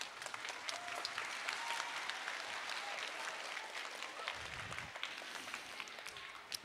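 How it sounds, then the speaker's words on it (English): An audience at the McBain Elementary end-of-year school awards ceremony in 2024 applauds with dense, continuous clapping that fills the hall at an even level from start to finish. "Let's give them a round of applause, please."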